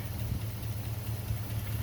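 The engine of a 1964 Mercury Comet Caliente, revived after 27 years in a barn, idles with a steady low rumble and a faint repetitive tick, quiet and continuous throughout.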